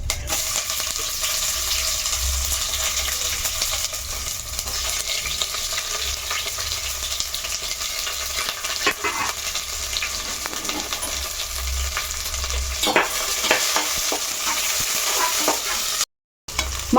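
Sliced onions and green chilies frying in a pan for coconut pulao, a constant sizzle with scraping stirs and occasional clinks of the spoon, no talking.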